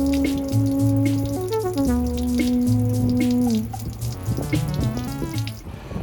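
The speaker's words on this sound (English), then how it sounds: "So I have the water draining out of the RV." Water pours and splashes steadily as it drains out of a Winnebago Travato RV tank, with a running-tap rush and a faint tonal hum underneath; no voices are heard.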